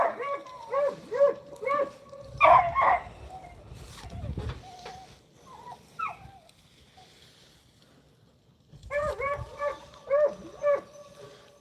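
A pack of beagles barks and bays in quick repeated bursts outdoors on a rabbit trail, fading to a quieter stretch with faint calls before the excited baying resumes.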